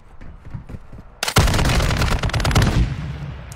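A weapon in the shooter Warzone opens up after a quiet second, firing a fast, loud automatic burst of close shots that keeps rattling for a couple of seconds.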